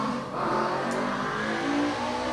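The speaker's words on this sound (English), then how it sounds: "motorcycle is very loud" A nearby motorcycle engine revs and hums steadily, its pitch rising slightly, loud and continuous with no talking.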